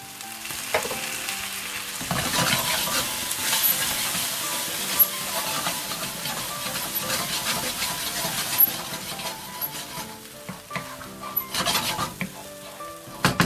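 Spiced chickpeas sizzle steadily in a hot pan while a utensil stirs and scrapes through them, with occasional metallic clinks; no talking.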